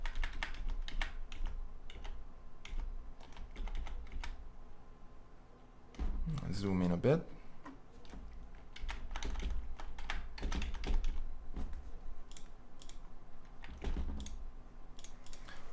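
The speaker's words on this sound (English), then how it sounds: "I just reposition my arrow using my arrow keys. And if I hold down my shift key, I can move 10 pixels on the canvas." Computer keys tapped in quick irregular clusters, close and crisp, while arrow and shift keys nudge an object on a design canvas; someone talks over the clicking throughout.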